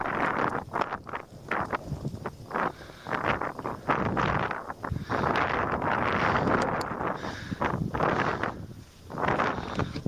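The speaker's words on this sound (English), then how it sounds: "Okay, it's really windy." Strong wind gusts roar across an outdoor microphone in a continuous heavy buffeting rush, surging and dipping for the full stretch with no clear voices.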